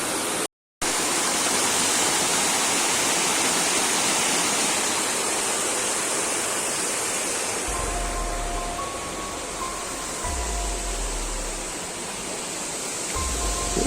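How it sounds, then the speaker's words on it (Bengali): Water rushes far below a high bridge at Pilutia at night, a steady loud hissing roar that carries on unbroken after a brief dropout, with faint low thumps and thin tones near the end. "অন্ধকারে ভর্তি জলের আওয়াজ পাচ্ছ"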